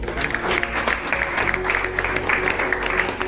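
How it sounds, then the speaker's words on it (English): An audience claps throughout an event presentation, a steady patter of applause with a faint low hum underneath. "So give yourselves a round of applause."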